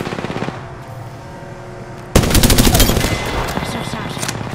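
Apex Legends Season 6 weapons firing: a quieter stretch gives way to a loud, dense burst of rapid automatic gunfire that continues to the end, with faint in-game voice lines beneath.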